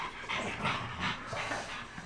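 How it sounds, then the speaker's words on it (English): A female dog growls territorially while meeting other dogs, giving a rough, rumbling, panting growl in several close pulses with no talk over it. "She's starting to do some growling."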